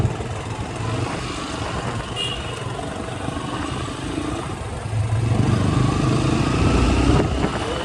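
A motorcycle rides off-road on muddy hill tracks, its engine a steady broadband drone that swells louder toward the end, with wind noise and a voice speaking over it.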